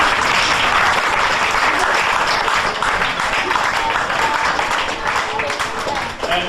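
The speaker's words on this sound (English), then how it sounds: "could we applaud them please?" Steady, dense applause from an audience at a cricket club presentation night, thanking meal volunteers, loud and continuous throughout with a slight fade near the end.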